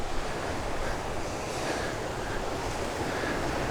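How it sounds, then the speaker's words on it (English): Ocean surf washing against the rocky coast along a coastal walking track in Noosa National Park, a constant broad roar of waves mixed with wind buffeting the microphone, with no voices. "Look at that beautiful, beautiful ocean."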